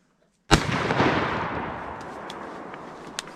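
A single loud shotgun blast at ducks during an opening-day duck hunt in Virginia, a sharp crack followed by a long rolling echo that fades over several seconds, with a faint later pop.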